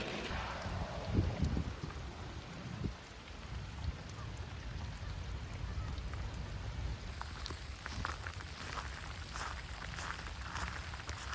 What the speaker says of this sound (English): it's cold, it's icy, still raining